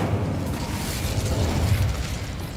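Hogwarts Legacy's Incendio fire spell is cast in a continuous loud roaring, crackling burst of flame, with a dense rumbling whoosh that holds steady throughout.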